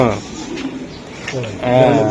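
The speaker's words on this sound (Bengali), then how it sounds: "কবুতর ফাটাফাটি কবুতর এটা ভাই।" Racing pigeons coo close by in low, throaty bursts, with one soft call early on and a fuller, rolling coo at the end.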